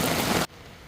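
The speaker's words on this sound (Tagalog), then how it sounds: "Wow, lakas ng ulan." Dense, roaring typhoon downpour in a flooded village in Cainta hammers steadily for about half a second, then cuts off abruptly, leaving only faint background hiss.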